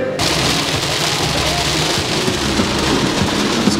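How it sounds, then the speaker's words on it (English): Heavy rain falling steadily outdoors, a dense, loud, unbroken hiss with low rumbling underneath, constant throughout. "It's quite the rain."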